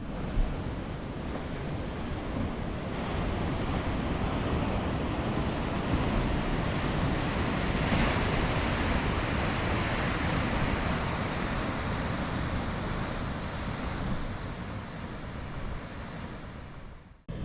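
Ocean waves breaking over a shallow reef, a steady loud roar of surf and rushing whitewater with some wind noise, continuous and close for the whole stretch with no talk.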